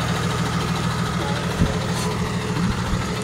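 A 2015 Blue Bird Vision wheelchair-accessible school bus with a 12-foot body and Cummins 6.7-liter ISB diesel idles nearby, a steady low rumble with a faint bump or two over constant background noise.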